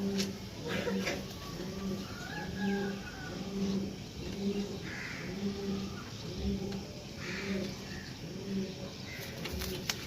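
Domestic pigeons, desi and golden cross birds kept for flying competitions, coo in a steady repeating rhythm of low throaty calls, with occasional wing flutters, moderately faint.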